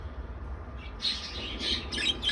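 Several birds chirp and tweet in quick, overlapping bursts over a low background rumble, growing busier toward the end.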